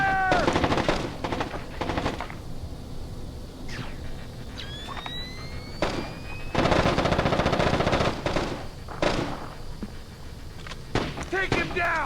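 Bursts of automatic gunfire from the PS2 stealth-action game Splinter Cell: Chaos Theory, loud and close, with shots and impacts mixed among game voices shouting and a siren-like tone.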